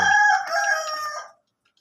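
A young Sweater Boston rooster crows once, a loud, close, drawn-out call lasting just over a second before cutting to silence.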